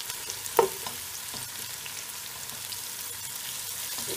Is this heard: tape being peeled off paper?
no